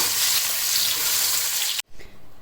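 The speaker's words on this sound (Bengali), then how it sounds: "তেল ঘি গরম হয়ে গেছে, তো আমি প্রথমে পোলাওয়ের জন্য পেঁয়াজটা বেরেস্তা করে তুলে নেব।" Sliced onions fry hard in hot oil and ghee for pulao, a loud, steady, hissing sizzle that cuts off abruptly near the end, then returns more softly.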